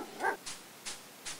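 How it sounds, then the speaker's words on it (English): Three short yapping barks from a bully dog in the King's Quest 5 video game, the first a pitched yelp followed by two sharper, evenly spaced barks, close and moderately loud with no talk. "A bully of a dog terrorizes the poor ants."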